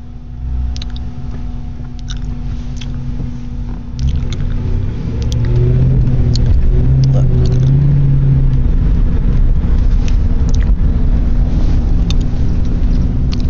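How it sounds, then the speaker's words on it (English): A 2000 Ford Crown Victoria, a former police K9 unit car, drives in winter weather with a low steady engine drone inside the cabin, rising as it accelerates midway, with faint rattles and clicks over the hum. "Let's see if I can get this car up to 70 miles with this kind of weather."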